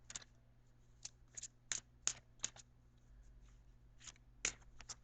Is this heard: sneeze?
no